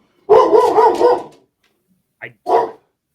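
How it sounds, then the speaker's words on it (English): A dog barks loudly and close by in a few quick bursts, then a short pause and two more brief barks, with no talk over it, heard during a podcast conversation recorded indoors. "I don't know what he's barking at"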